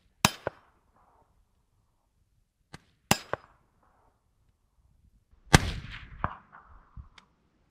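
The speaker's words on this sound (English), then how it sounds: "Alright, firing." Suppressed rifle fired outdoors through a B&T MARS 556 suppressor: several sharp cracks spaced a few seconds apart, some followed by a brief echoing tail, with quiet gaps between shots.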